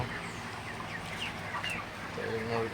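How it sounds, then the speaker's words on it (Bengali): Broiler roosters, all male and kept for weight gain, cluck softly in a farm pen, with scattered low calls rising and falling under a faint background of talk. "সবগুলাই মোরগ রাখছি এখানে একটাও মুরগি নেই"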